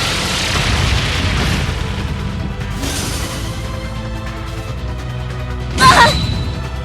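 The Brionac weapon firing in the video game Trails of Cold Steel III, a rumbling explosive blast that swells and fades, followed by a softer burst and then a sharp, bright impact near the end.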